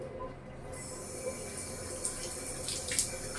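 Water running steadily from an overflowing tank while clothes are wrung out nearby, a constant close hiss and rush with a few faint splashy clatters toward the end and no voices.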